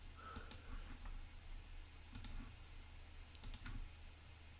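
Several light mouse clicks on a computer, sounding as short crisp ticks in small pairs and singles over a quiet background hum.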